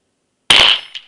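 A Stoeger 12 gauge coach gun fires a single loud, close blast at a steel gong target, followed by a short rattling decay and a faint metallic ring.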